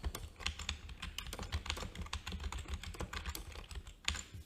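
Rapid typing on a computer keyboard at a drafting workstation: dense, irregular clicks and key taps in a steady stream, close and fairly quiet, with no voices.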